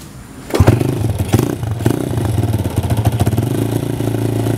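A modified Honda C70 motorcycle engine cranks and catches, then settles into a steady, close idle with a rhythmic mechanical chug.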